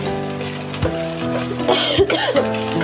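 Freshly ground ginger and garlic paste with cumin hits a hot pan for potato dal, giving a brief sizzle with stirring scrapes close by.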